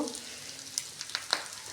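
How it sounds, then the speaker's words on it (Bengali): Onion sizzles quietly in a pan while a fish roe dish is cooked, a low hiss broken by a few sharp, scattered pops and crackles, close by with no talking. "আমার পেঁয়াজ হালকা ভাজা হয়ে গেল"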